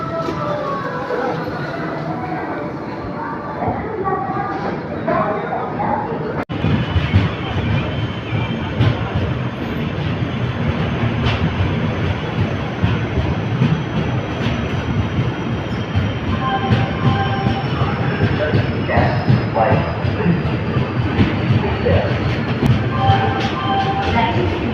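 The Bhavnagar-Kakinada Port superfast express rolls out of Secunderabad Junction, heard from on board as a loud, steady rumble of wheels on rails with rattling carriages and a faint high squeal, and occasional voices in the background.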